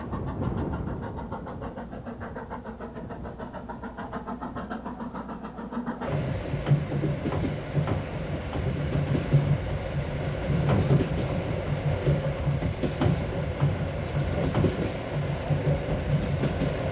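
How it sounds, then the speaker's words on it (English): Train crossing the Tian Shan mountains by rail, a steady low rumble with rhythmic clickety-clack of wheels on track, moderately loud and continuous, growing busier partway through. "In this way, the train gradually crosses the mountains."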